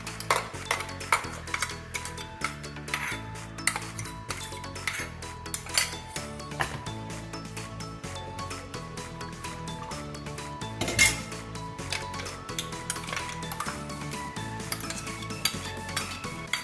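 Kitchen utensils clink and tap against a small vessel as a ground mixture of coconut, cumin, black pepper and salt is transferred for brahmi tambuli. The light, scattered metallic knocks continue steadily with no talking.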